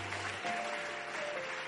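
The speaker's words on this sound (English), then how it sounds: "Come on, clap your hands and give God praise." Church congregation clapping hands in praise, a quiet, distant wash of many hands heard throughout, with a faint sustained tone running beneath it and no clear talk.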